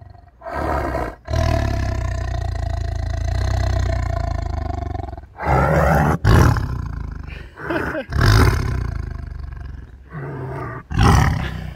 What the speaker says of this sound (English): that was a nice roar